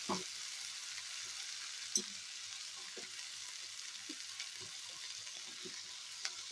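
Brinjal pieces frying with onions in a pan, a quiet, faint sizzle with scattered light clicks and a few spatula taps.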